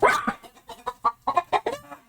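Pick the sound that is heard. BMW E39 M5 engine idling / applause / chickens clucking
chickens clucking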